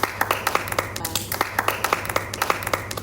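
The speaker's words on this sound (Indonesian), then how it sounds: "kita kasih tepuk tangan buat Bu Astuti" A small group claps for a long-serving school teacher, Bu Astuti, in a room: scattered, uneven hand claps repeat in a loose, lively rhythm, with voices chattering underneath.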